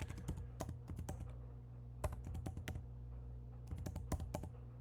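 Typing on a computer keyboard in a quiet office, with soft, close key clicks in short irregular bursts, pauses between words, and no talking.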